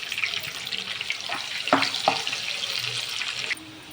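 Sliced onions fry in hot oil in a pan for palak paneer, a continuous bright sizzle with a couple of sharper clinks of a utensil partway through.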